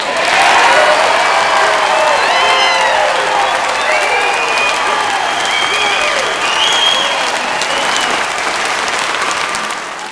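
Crowd at a health care reform town hall meeting in Fort Wayne breaking into loud sustained applause with cheering, dense clapping filling the whole stretch and fading slightly at the end.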